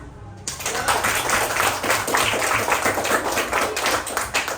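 A classroom of students applauds a student group after their presentation, sustained dense clapping that starts abruptly and continues steadily, close and loud.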